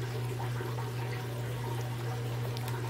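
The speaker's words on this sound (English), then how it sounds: "it's starting to kick out now. You can hear it, it'll start sucking air." An aquaponics flood-and-drain grow bed drains steadily, water gurgling and rushing over a constant low hum from a pump, with no voices.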